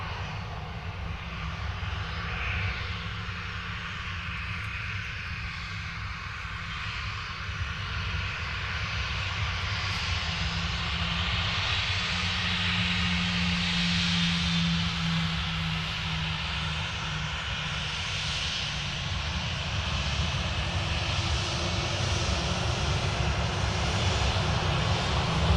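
An Aeroflot Airbus A350 at Manchester Airport roars with its jet engines, a steady broadband rumble and hiss that swells slowly and stays loud throughout, with no voices.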